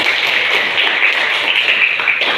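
A classroom of students clapping hands together, a bright, dense burst of close applause lasting a couple of seconds with no speech.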